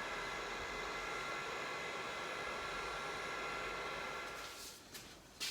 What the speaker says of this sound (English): so just using the heat gun here.